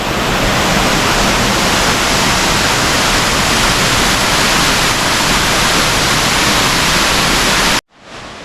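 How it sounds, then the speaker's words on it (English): A waterfall in Bali roars as a loud, dense, unbroken rush of falling water up close, cutting off abruptly near the end with no talking. "Wow, so here I am at the waterfall."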